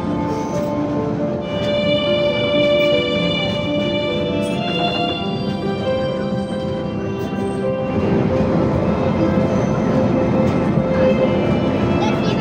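A passenger train runs through Satkania, Bangladesh, its continuous rumble and droning tonal hum filling the space steadily, growing slightly rougher and louder toward the end.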